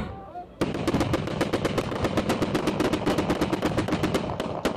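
Celebratory gunfire at a Pathan wedding in Pakistan, with rapid loud bursts of shots and pistol fire cracking in a dense, continuous string, including some isolated sharp reports near the end.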